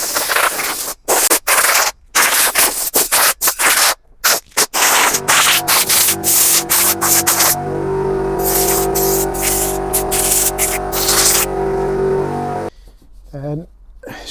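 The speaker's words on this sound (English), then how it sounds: "So blow it out with the airline." A compressed-air line blows out a Hayter Harrier 41 lawn mower during a home service: loud, close bursts of rushing air, short and choppy at first, then a longer sustained blast, with someone talking over parts of it.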